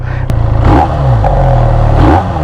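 2023 QJ Motor SRK 400 two-cylinder naked motorcycle idling through its exhaust, a loud, close, low throbbing rumble with a slightly uneven pulse and brief blips, no speech.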